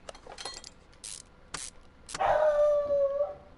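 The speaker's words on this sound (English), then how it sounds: "Thank you, dog. I'm so glad you were barking right outside my door." A dog just outside a door gives a few sharp yips, then a drawn-out howl-like bark that holds and wavers for about a second, heard faintly through the door with no voices over it.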